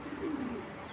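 A light-coloured Johnson pigeon of a foreign fancy breed gives a soft, low, rolling coo lasting under a second, fairly faint against a quiet background.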